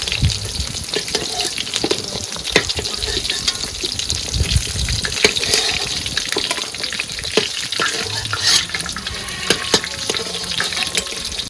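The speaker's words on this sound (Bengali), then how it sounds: "মাছ ভাজা হয়ে গেছে" Fish fries crisply in a pan of oil, a loud, dense and continuous crackling sizzle with frequent sharp pops, heard close up throughout.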